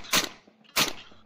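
Two sharp gunshots crack in a tactical shooter game, close and crisp, spaced about half a second apart, with brief faint echo tails and no voices.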